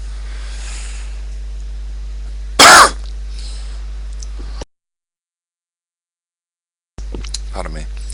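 A man gives a single short, loud cough over a steady background hum. Speech-like sound follows, then the audio drops to silence before faint sound returns.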